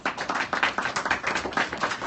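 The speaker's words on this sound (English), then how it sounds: "All right, round of applause." Round of applause from a small classroom audience, a close, busy patter of hand claps with uneven rhythmic pulses and no talking.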